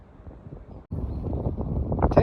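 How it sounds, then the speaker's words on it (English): Wind gusting around a hot tent at a cold January base camp, a low rough buffeting that starts soft, drops out briefly, then returns stronger and keeps rising to the end. "it's getting windy, as you can probably hear"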